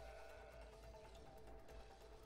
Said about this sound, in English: Now sheep. Sheep,